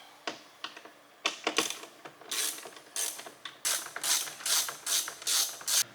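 A ratchet backs out door panel screws on a Chevy Malibu: a few sharp clicks and taps at first, then a steady run of rapid ratcheting bursts, close and crisp, with no one talking.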